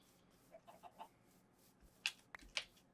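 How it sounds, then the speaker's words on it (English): Chickens in the Minecraft video game give a few soft, short clucks followed by several sharper, brighter squawks, all faint and set against a quiet background. "Aha, chickens."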